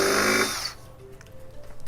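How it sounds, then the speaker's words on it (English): A power drill bores a clean hole through a hardware-mounted windscreen, whining loudly at close range for under a second before cutting off, leaving faint handling noises. "this is how you get a really clean hole with drilling with no chips or bust outs on the back side"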